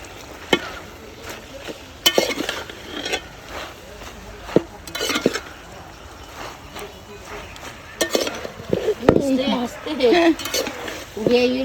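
Spice paste with ginger and garlic frying in a pan while being stirred, heard as irregular scraping and knocking strokes of a utensil against the pan over a faint sizzle, with people talking throughout.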